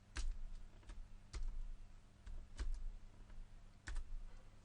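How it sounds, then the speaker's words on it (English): Keystrokes on a computer keyboard, a handful of sharp, separated taps spaced about a second apart, quiet and close, with no talking. "you in 2 to 5 keystrokes select your objects through the keyboard"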